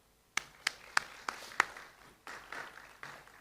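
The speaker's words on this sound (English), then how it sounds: "So let's give ourselves a round of applause." A few sparse, isolated claps from a small audience at a government energy expo, about five sharp hand claps spaced irregularly, fairly faint and distant, fading into a soft wash of room noise.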